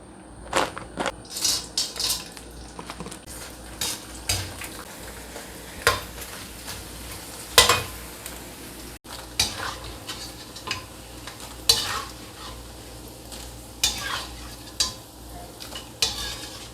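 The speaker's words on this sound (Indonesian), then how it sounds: "Nah, goreng kerupuk ya," Kerupuk crackers fry in a pan of hot oil, a steady close sizzle broken by repeated scraping and stirring clacks of a utensil at an uneven pace, with no talking.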